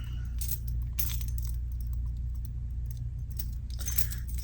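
House and office keys on a keychain jangle in bright, repeated metallic bursts, close and clear over a low steady background hum, with no talking.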